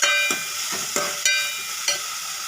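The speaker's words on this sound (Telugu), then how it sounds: "ఎండ్రొయ్యలు వేసుకొని ఒకసారి కలుపుకోవాలి ఫ్రెండ్స్" Dried shrimp fry in a pan with onions and tomatoes, giving off a steady, close sizzle. Four or five distinct scrapes and knocks of the spoon mark the stirring, with no talk.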